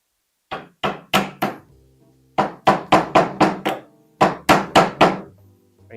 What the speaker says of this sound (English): Okay, I knew I had a hammer around here. I knew I had a hammer.